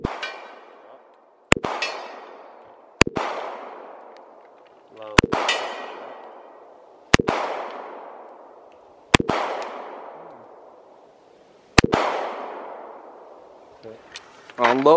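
Desert Eagle pistol firing at a forged aluminum wheel: seven loud, sharp shots spaced a couple of seconds apart, each followed by a long ringing metallic decay.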